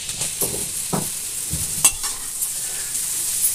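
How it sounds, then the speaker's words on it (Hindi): Soybean chunks and chickpeas frying in oil in a home kitchen, a steady close sizzle with several scraping stirs of a spoon through the pan, no talking. "मैंने इधर सोयाबीन भूज लिया है तेल में, और इधर चना को"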